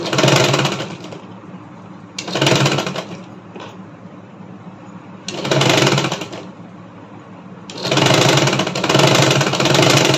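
Sewing machine stitching fabric in bursts: four loud whirring runs of a few seconds each, separated by quieter pauses where the motor idles softly.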